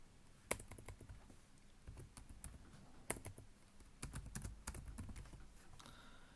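Keystrokes on a computer keyboard as data is entered into Excel, a soft uneven patter of clicks with a few sharper taps, close and fairly quiet, with no voices.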